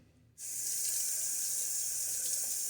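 Tap water runs steadily into a sink to rinse a razor during a wet shave, starting abruptly after a brief quiet moment and continuing as a close, even hiss.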